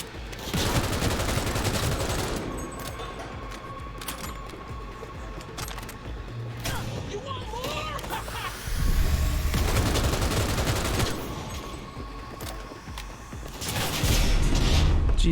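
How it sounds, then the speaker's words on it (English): Enemy gunfire in Cyberpunk 2077, bursts of rapid shots crackling loudly in clusters with brief lulls between volleys, some heavier booming impacts mixed in. "they're just shooting me through the stupid gate"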